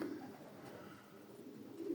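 Janssen line racing pigeons cooing softly in a loft, a low murmuring coo that runs steadily through the whole stretch and swells near the end.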